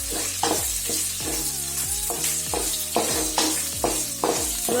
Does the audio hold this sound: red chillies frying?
yes